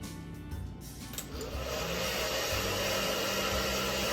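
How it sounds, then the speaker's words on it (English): A hair dryer runs steadily at close range, a continuous broadband whoosh that holds even and loud for the full stretch, with no talking over it. "you're gonna wanna set up your blow dryer"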